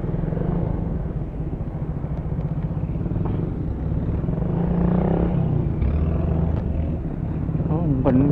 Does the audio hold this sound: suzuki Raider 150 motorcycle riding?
yes